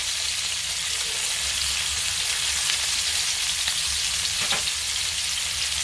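Ribeye steaks searing in a pan, a steady, dense sizzle and spit that holds evenly throughout with a faint pop or two and no talking.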